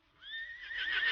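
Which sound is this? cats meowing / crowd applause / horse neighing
horse neighing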